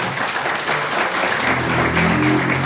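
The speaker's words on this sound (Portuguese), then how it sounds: "Palmas que agradecem o nome do Senhor Jesus." Church congregation clapping, a loud, dense burst of applause with a voice rising beneath it toward the end.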